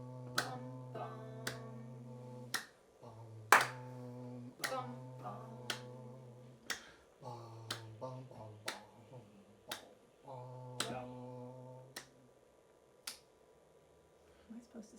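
Sharp hand claps tap out an uneven rhythm from Ravel's String Quartet during a rehearsal class, with a steady sung or hummed tone sounding underneath between the claps.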